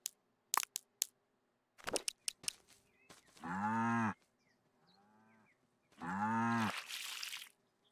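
Cows moo in the Staxel video game, two long, loud, close lows with a softer one between, preceded by a few sharp clicks and taps in otherwise quiet surroundings.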